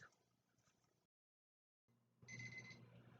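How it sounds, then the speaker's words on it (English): A kitchen timer goes off while spatchcock chicken cooks, a short tonal ringing burst with steady pitched tones for about half a second near the end, loud and close after a long quiet stretch. "there's the timer"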